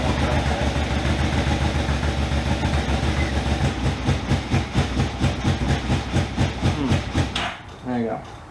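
A Yamaha RSV engine runs with a rough, pulsing rhythm for several seconds, then sputters and dies out near the end, leaving a brief quiet thump.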